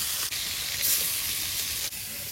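Fish sizzles fiercely in very hot oil, a loud, steady bright hiss with crackling spatter close by and no talking.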